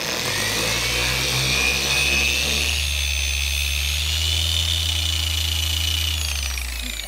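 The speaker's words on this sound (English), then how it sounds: "So she's cleaning the pad in the pad washer." A polishing pad spins in a pad washer during an auto detailing job on a cruiser bus, making a loud, steady mechanical whir with a whining tone that shifts slightly partway through and runs continuously throughout, with no talking.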